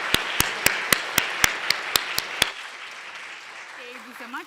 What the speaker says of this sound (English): I would like to welcome a huge applause for our panelists.